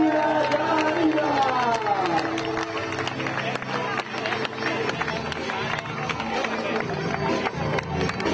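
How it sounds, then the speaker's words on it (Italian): Crowd applause and cheering at a singing contest, a continuous patter of claps mixed with hubbub and a singing voice at the start. "Applausi per lei"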